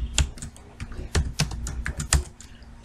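A computer keyboard clatters steadily as code is typed, with distinct, sharp key presses at an irregular rhythm, close and fairly loud, with no voices.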